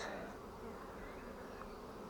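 A dense, steady buzzing hum of many honey bees at a hive fills the air up close, continuous and unbroken with no voices.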